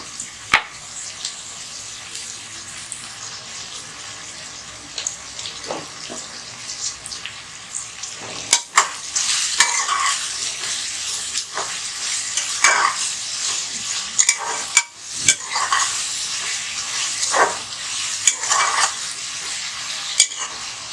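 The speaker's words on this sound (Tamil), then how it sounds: "நல்ல பொன்னிறமாக வதங்கினா தான் பிரியாணி டேஸ்ட்டாக இருக்கும்" Onions sautéing until golden in a pressure cooker pan for mutton biryani, a loud close sizzle broken by repeated sharp scrapes and clacks of a spoon stirring, with no voices.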